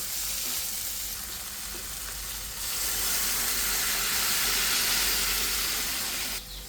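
Hot water poured into a pan of hilsa fish curry with potato and pointed gourd sets off a loud, continuous sizzle and hiss that swells partway through and stays close and steady.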